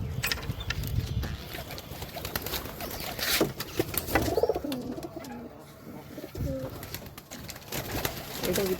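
Desi pigeons in a loft coo in low, rolling, repeated calls, several birds overlapping close by, with some rustling and faint background noise.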